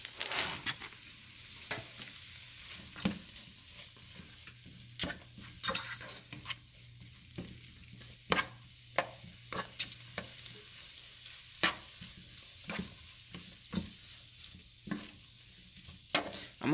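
Meat and vegetables for a one-pot fajita pasta fry quietly in a pot, a soft steady sizzle broken by frequent sharp stirring clacks of a utensil against the pot.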